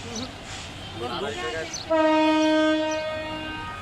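A train horn blares loudly and steadily for about two seconds, following a stretch of faint background voices and ambient noise.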